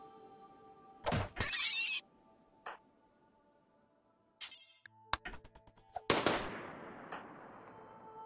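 RimWorld gunfire as colonists shoot at mad rats, scattered sharp shots and short rapid bursts separated by quiet gaps, mixed with clunks and electronic game effects, crisp and close.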